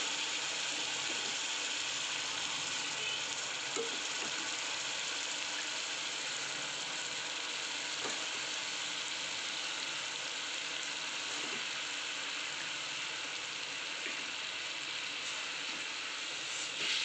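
Moth bean sprouts (matki) frying in a pan with sautéed masala and salt, a steady, even sizzle that runs unbroken and fairly close, with no talking.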